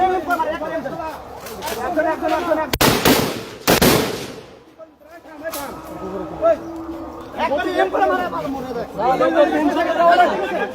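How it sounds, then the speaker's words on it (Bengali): Soldiers fire blank rounds during an army operation in Gopalganj, sharp loud bursts of gunfire cutting through near, continuous crowd chatter and talking. "ওরা ব্লাঙ্ক ফায়ার করতেছে"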